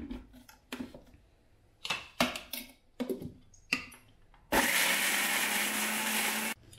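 A mixer grinder blending raw mango for a curry, preceded by several short knocks and clatters, then roaring loud and steady for about two seconds before cutting off abruptly.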